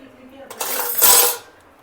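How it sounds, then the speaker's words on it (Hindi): A kitchen knife presses down on a plain metal spoon to crush it for kulfi making, producing a short, close metallic scrape and clink that swells and fades within about a second. "ये चम्मच यहाँ पर इस तरह से थोड़ा सा क्रश करेंगे हम चाकू से"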